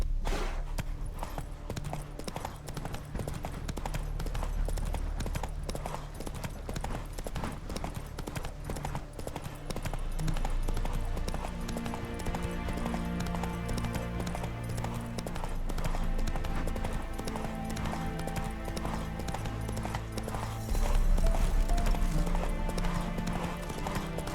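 Roach, a horse in The Witcher 3 video game, clip-clops along with steady rhythmic hoofbeats over a continuous game soundscape of music and ambience, with a voice briefly speaking.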